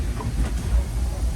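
The Disneyland Railroad train starts to move, sending a low steady rumble of rolling wheels and carriage noise through the car for a brief moment.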